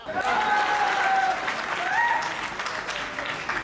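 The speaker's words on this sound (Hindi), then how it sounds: "आप लोगों को तालियां बजानी ही होगी" A crowd at a Hindi stage comedy and song performance claps steadily and fairly loudly throughout. Drawn-out vocal or whistle-like tones rise above the clapping.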